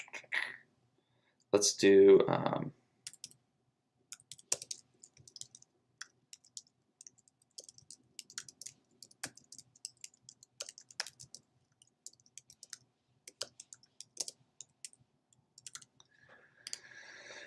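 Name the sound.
typing an address on a computer keyboard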